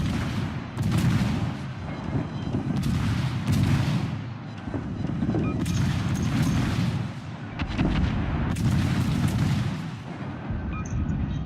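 Naval guns in a battleship video game fire on the battleship North Carolina, heavy booms and blasts landing one after another with a dense rumbling wash between them, loud and sustained with no talk.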